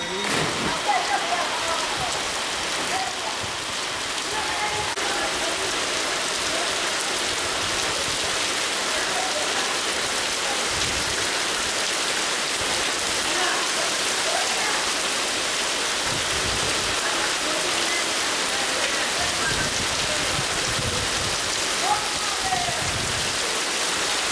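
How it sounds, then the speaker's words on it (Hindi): Steady heavy rain pouring down outdoors in Udaipur during the monsoon, a dense continuous hiss of drops on surfaces throughout, with a faint voice briefly in the background. "बारिश आएगी।"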